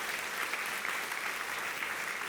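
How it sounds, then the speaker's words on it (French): A church congregation applauds in a steady, even wash of clapping that sounds somewhat distant and moderately quiet, with no distinct voices. "que tu puisses applaudir ce matin."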